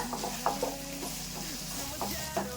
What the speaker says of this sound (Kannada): ರೆಡ್ ಕಲರ್ ಕ್ಯಾಪ್ಸಿಕಮ್ ಕಟ್ ಮಾಡ್ಕೊಂಡಿದ್ದೀನಿ, ಅದನ್ನ ಹಾಕೊಂತ ಇದೀನಿ. ಇವಾಗ ಇದನ್ನ ಸ್ವಲ್ಪ ಫ್ರೈ ಮಾಡ್ಕೊಂಡ್ಬಿಡೋಣ.